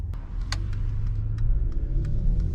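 Mercedes-AMG GLE 53 Coupé, a 2021 model, rumbles steadily from inside the cabin, a deep continuous engine drone with faint clicks and ticks scattered over it.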